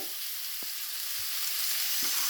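Onions sautéing in a pan for chicken curry, with ginger-garlic paste going in: a steady broadband sizzle fills the clip, with two brief clinks of a spoon against the pan, no talk.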